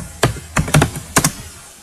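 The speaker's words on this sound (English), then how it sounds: "I can type in my status" A few close, clacky keystrokes on a computer keyboard, typed in small irregular clusters over a short stretch, with faint background hiss.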